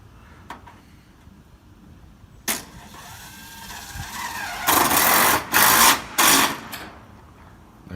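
A power drill drives a screw into a downspout being hung on the back of an old jailhouse building under renovation. A few short, loud whirring bursts sound near the end after quieter background noise.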